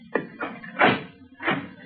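A door being opened in an old-time radio detective drama, with a click of the latch followed by a couple of dull knocking and creaking thumps close by in a quiet room.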